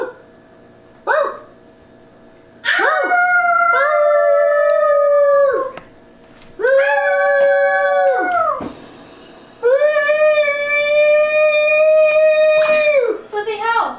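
A dog howls in several long, drawn-out wails with a few short yelps between them, close and loud, in a car during a snowstorm, with a person talking nearby.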